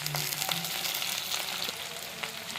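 Chopped small onions and curry leaves sautéing in hot oil in a pan, a soft continuous sizzle with faint scraping and a few light clicks, low in level and with no one talking.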